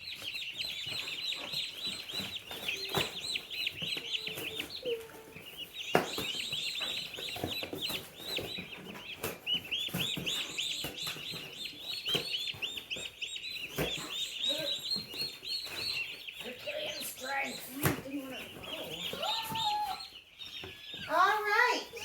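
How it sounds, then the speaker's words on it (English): A box of 104 bright yellow broiler chicks cheeps constantly in a dense, high-pitched chorus of overlapping peeps, moderately close, with a few brief knocks and a louder flurry of calls near the end. "just in time for Easter are these adorable, bright yellow little chickies"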